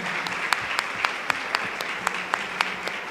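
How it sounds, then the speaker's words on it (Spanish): Applause at a university academic-credits conference in Argentina: a loud, steady wash of clapping with sharper individual claps standing out at a regular beat, no talking. "a la magíster Daniela de la Vega, por favor, un aplauso para él"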